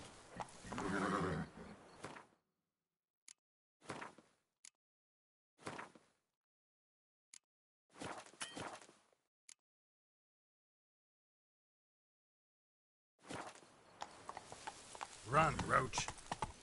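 Roach, a horse in a video game, gives gated bursts of hoofbeats and a neigh separated by stretches of silence, close and fairly quiet, with a voice speaking between them.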